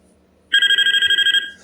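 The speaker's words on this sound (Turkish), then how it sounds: "Telefon çalıyor." A telephone rings in the Graveyard Shift at Freddy's video game, a rapid trilling electronic bell that starts abruptly and buzzes on for about a second before cutting off, loud and alone over a quiet low hum.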